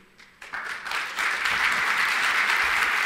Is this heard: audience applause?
yes